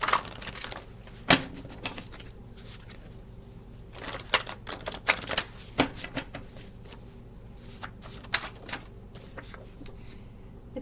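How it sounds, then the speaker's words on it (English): Deck of cards being shuffled, a run of crisp riffling and tapping bursts with irregular rhythm, close and fairly quiet. "let's start with some channeled cards. Shuffle."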